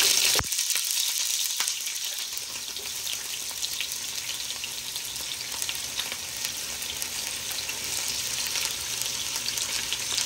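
Onions crackle and sizzle steadily in hot mustard oil in a pan after cumin seeds, a dense, continuous fry with occasional sharper pops, close up and alone throughout.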